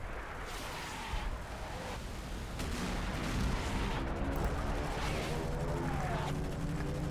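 Distant 25-pounder artillery booms and rumbling blasts in a video game roll over one another in a dense, continuous barrage, noisy and unrelenting throughout.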